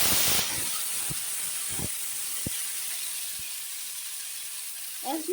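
Tomato paste drops into hot oil with a sharp burst of hissing that settles into a steady, even sizzle, with a few soft utensil knocks near the end.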